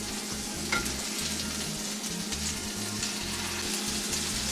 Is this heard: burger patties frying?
yes